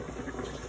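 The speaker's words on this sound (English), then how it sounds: "Once I feel like my oil is warm enough, I'm going to go ahead and place the tortilla." A tortilla fries in warm oil in a pan, giving a quiet, close bubbling sizzle with faint crackles, steady and low-level over a brief stretch with no speech.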